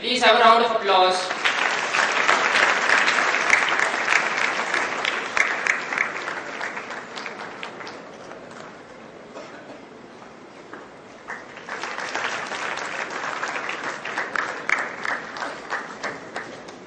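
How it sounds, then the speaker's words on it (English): An audience claps in a sustained round of applause that swells and then thins out. It dies down midway, then picks up again strongly for a second burst. "May we please have a round of applause."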